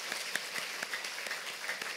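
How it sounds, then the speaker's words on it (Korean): A church congregation at a Sunday worship service applauds to welcome visiting relatives, producing a steady, faint patter of many hands clapping at a distance with no pauses. "우리 자리에서 일어나 주시면 큰 박수로 환영하겠습니다"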